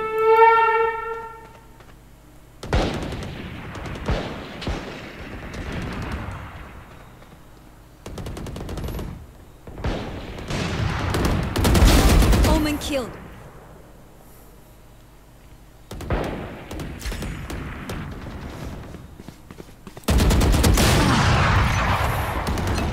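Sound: gunfire in a shooter video game

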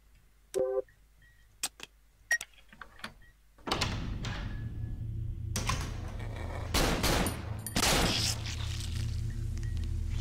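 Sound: gunshots in the video game Cry of Fear

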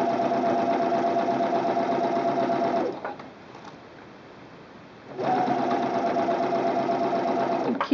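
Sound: sewing machine stitching elastic onto fabric

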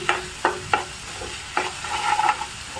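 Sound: ginger garlic paste frying in pan

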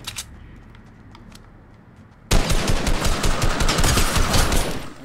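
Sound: gunfire in Fortnite video game

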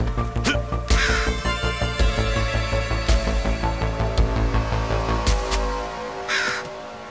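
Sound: bird cawing in The Mummy Demastered video game

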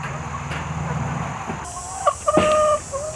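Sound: chickens clucking at a chicken coop

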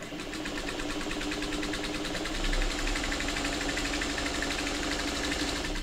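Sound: sewing machine stitching a quilt block

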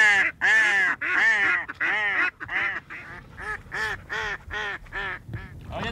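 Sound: decoy ducks quacking

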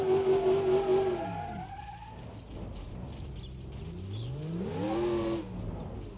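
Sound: supercharged truck accelerating in video game BeamNG Drive

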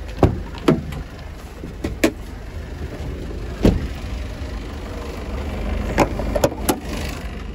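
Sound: Citroen Relay 2.0L van engine idling

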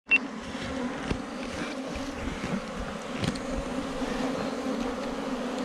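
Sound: large swarm of honey bees buzzing

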